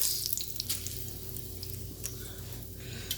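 Pork chops fry in a pan with only a little oil, a steady close sizzle and crackle running throughout with small pops and spatters.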